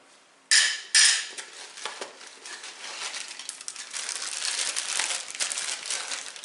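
A metal teaspoon rattles and clinks against cups and cookware from a compact camping brew kit, two sharp loud clanks up front, then a long stretch of softer jangling and scraping.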